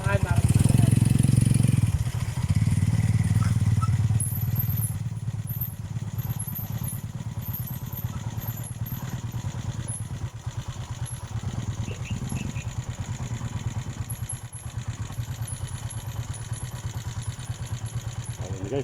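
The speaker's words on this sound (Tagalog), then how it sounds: "Gapangin natin yung motor, susundan natin." A motorcycle engine runs and revs on a muddy, remote track in Canlubang, Laguna, loud at first and then settling into a steady, nearby drone with people talking over it.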